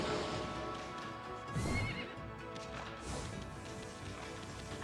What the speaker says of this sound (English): I know that was a good horse too.